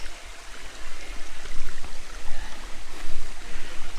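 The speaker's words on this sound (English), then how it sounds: "stream actually, which falls from this hill there." The Bheemuni Paadam waterfall stream in Telangana, running low in the dry season, gives a steady rushing wash of flowing water with wind rumble, close and fairly loud throughout.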